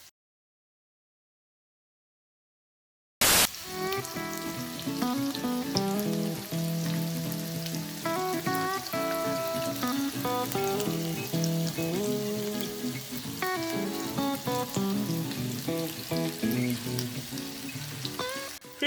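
Sliced potatoes frying in butter in a frying pan for batata sauté, a steady bubbling sizzle with crackles that starts abruptly after a few seconds of silence and carries on alone.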